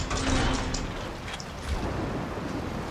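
Rain hammering down in a Gears of War 2 ice storm, a dense continuous hiss of rainfall with a low rumble of thunder underneath, loud and enveloping.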